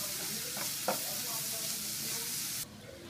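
A sauce simmering in a pan is stirred, giving a steady frying sizzle with a couple of soft spoon scrapes before the sizzle drops away abruptly near the end.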